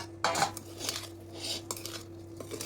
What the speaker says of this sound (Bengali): এখন আমি মশলা এই আমলকিতে মিক্স করে নিচ্ছি।